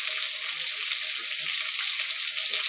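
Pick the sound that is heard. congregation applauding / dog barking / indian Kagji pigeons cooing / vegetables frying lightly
vegetables frying lightly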